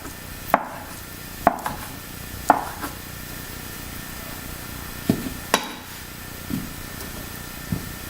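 Knife chopping through skin-on garden potatoes on a cutting board, with about eight separate sharp cuts spaced irregularly against a quiet kitchen background and no talking.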